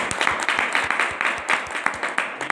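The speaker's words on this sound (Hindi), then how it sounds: "उन सभी मेहमानों का जोरदार तालियों से स्वागत करें" A crowd applauds with brisk, continuous clapping, a steady burst of many hands at close range.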